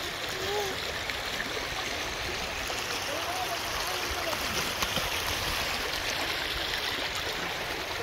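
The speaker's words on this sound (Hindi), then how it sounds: "पीछे पानी खलखल खलखल बह रहा है" A stream at Valmiki Tiger Reserve in Bihar flows past close by, making a steady, dense rushing and babbling that stays even and continuous throughout.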